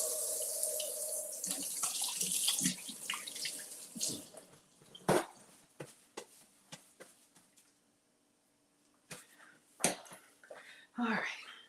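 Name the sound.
washing hands under a running tap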